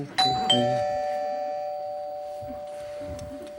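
A person's voice imitates a two-note ding-dong doorbell chime, ringing out clearly and slowly fading, with faint room noise behind it.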